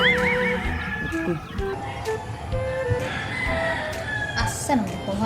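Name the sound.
rooster crowing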